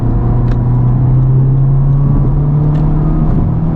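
Honda Civic Type R engine at high revs in R mode, a steady loud drone with a slowly rising tone, heard from inside the car with no talk.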